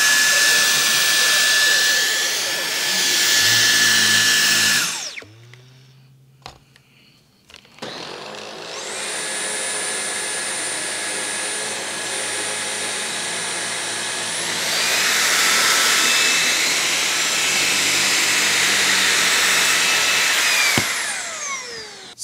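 Loud whining motors of Dyson V11 and LG A9 CordZero cordless stick vacuums running over soft carpet, one cutting off briefly before a higher-pitched unit starts, sustained roar with shifting pitch throughout.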